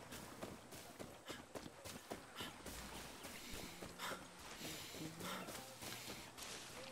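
In the video game Far Cry 6, horse hooves clip-clop in a quick rhythmic run, mixed with game ambience and occasional snorts, moderately close but fairly quiet overall.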